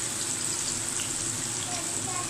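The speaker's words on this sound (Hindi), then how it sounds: "और एक वक्त में जो है वो सिर्फ दो ही कबाब फ्राई हो सकते हैं।" Chapli kababs fry in a pan, two at a time, giving a steady, close sizzle with a bright crackling hiss that holds evenly throughout, while faint low voices or kitchen sounds murmur underneath.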